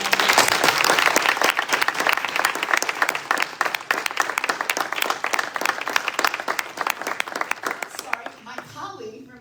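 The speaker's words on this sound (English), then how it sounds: "can we just have one more round of applause for our" Audience applause for the panelists at a leadership dinner panel, dense and loud from the start and fading out near the end, with speech rising over it as it dies down.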